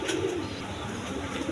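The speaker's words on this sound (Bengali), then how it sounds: "এখানে এক পেয়ার কবুতর আছে," A pair of pigeons coo steadily at a wholesale bird seller's, the low throaty murmur continuous and fairly close, with no voices over it.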